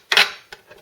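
A sharp plastic click snaps loudly as the drip tray of a Dolce Gusto Krups Circolo KP5001 coffee machine goes in, followed by two fainter, quick clicks as it settles into place.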